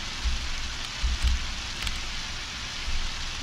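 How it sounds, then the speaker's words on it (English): Steady rain in the video game Undertale hisses continuously, with a few soft low thumps mixed in and no voices. "Because it's raining, of course."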